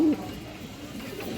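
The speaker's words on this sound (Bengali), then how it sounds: "এবং কবুতর ডাক দেখেন দর্শক" A large pigeon gives a single short, low coo right at the start, followed by a quiet murmur of background noise.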